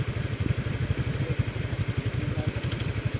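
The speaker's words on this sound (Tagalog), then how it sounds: "Taas na yung motor dyan." A motorcycle engine runs nearby on a rural road, a steady low chugging pulse with rhythmic clatter, loud and alone without voices.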